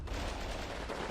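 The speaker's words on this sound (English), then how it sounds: "The volume of German fire is steadily decreasing as the tanks are able to move up and just put an end to that" Dense, continuous gunfire rattles and booms through a Soviet village assault in Combat Mission: Red Thunder, loud and unbroken with machine-gun bursts and heavier shots blending together.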